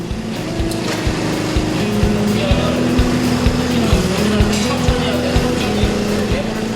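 A small motorcycle engine fitted with an exhaust in a homemade car runs at a steady idle with a throaty exhaust rumble and regular low pulses, loud and close, with some revving.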